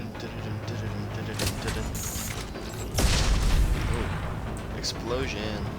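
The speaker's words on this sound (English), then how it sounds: "Explosion." Explosions and booming gunfire go off in the Mass Effect 2 video game, with a heavy blast near the middle over dense rumbling battle noise, and voices heard between them.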